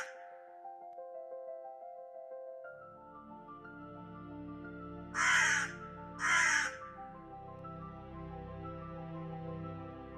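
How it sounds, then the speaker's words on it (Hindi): A black crow perched on the parapet of an old mansion gives two loud, harsh caws about a second apart, rising over sustained musical tones. "तभी हवेली की मुंडेर पर काला कौवा बैठ गया। उसकी तेज आवाज से रघुवीर का चेहरा पीला पड़ गया।"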